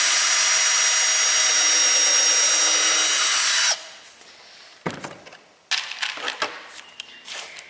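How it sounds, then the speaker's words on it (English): A power drill whines loudly and continuously for a few seconds drilling a pilot hole in wood for a model railway baseboard, then cuts off, followed by clattering handling noises. "I'll take my drill and just very carefully drill a pilot hole."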